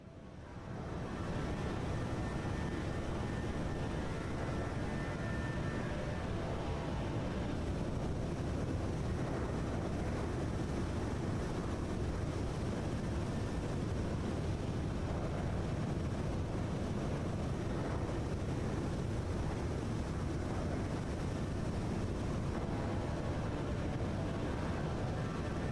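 Steady cabin drone of a Jet2 Boeing 737-800 in cruise in a flight simulator, a constant low roar and airflow hiss that stays even and unbroken throughout, with no voices.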